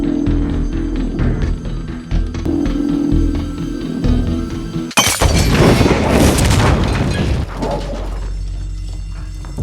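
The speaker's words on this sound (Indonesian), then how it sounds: "Kuan pun membuat bom untuk meledakkan toilet kantor Liam sebagai sebuah pesan peringatan agar Liam jujur padanya" A film scene of a bomb blowing up an office toilet: a low rumbling, mechanical build-up gives way to a sudden loud blast with shattering, crashing debris that roars on for a few seconds before settling into a quieter tail.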